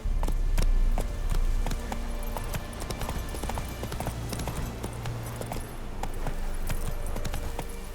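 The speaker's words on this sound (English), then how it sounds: "Run, Roach." Hooves clip-clop rapidly as a horse gallops across the ground in The Witcher 3, a brisk rhythmic beat that stays close and steady, with occasional creaks and a faint voice in the background.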